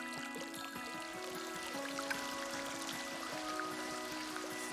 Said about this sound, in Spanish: Desde allí discurre bajo la roca para entrar por la parte alta del Generalife y despeñarse, oculta aunque sonora, bajo los peldaños de la escalera del agua